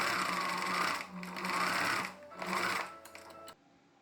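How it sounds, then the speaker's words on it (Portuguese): A sewing machine runs a straight finishing seam along the edge of a fabric face mask in three close, steady bursts of whirring stitching before it stops. "a gente vai ajeitar e vai passar uma costura de acabamento reta bem na bordinha"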